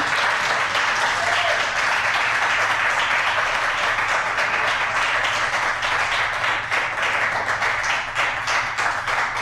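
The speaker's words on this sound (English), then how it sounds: "Let's give Brother Jesse another great round of applause." Audience applause at a poetry reading in a library, sustained dense clapping from a room of listeners that holds steady throughout.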